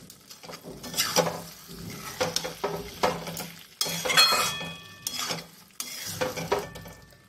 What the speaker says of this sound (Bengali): আর দুটো কাঁচা লঙ্কা দিয়ে আগে ভালো করে মিশিয়ে নিই